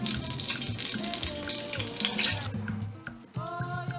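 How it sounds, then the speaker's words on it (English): Cooking oil, previously used to fry onion and pepper for Ghanaian black pepper sauce, poured into a pot: a steady close liquid pour that changes pitch as the level rises, ending with a brief clink. "oil I used to cook the onion and the pepper. I'm taking some out into my pot."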